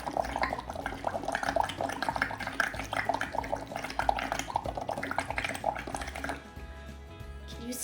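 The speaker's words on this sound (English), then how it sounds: "Put your straw into your mouth and we're gonna blow as hard as we can into the water liquid." Bubbling water from someone blowing hard through a drinking straw into a cup of liquid, a busy continuous gurgle and splashing for about six seconds, close and fairly loud, then tapering to a quieter fizz at the end.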